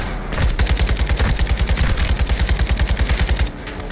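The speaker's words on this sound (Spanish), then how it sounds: "Ametralladora ligera adelante." Light machine gun in the Call of Duty: Modern Warfare 2 campaign firing a sustained automatic burst of about three seconds, with rapid evenly spaced loud shots that stop abruptly near the end.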